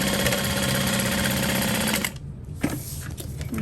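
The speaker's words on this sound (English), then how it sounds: "I'm just gonna sew." A sewing machine runs steadily, stitching a parachute knapsack, its dense mechanical whir continuous for about two seconds before stopping, followed by quieter handling noise and a brief tap.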